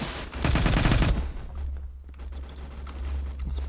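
A rapid automatic burst of gunfire from the video game Phantom Forces crackles loudly for about a second, followed by quieter scattered shots and a low hum.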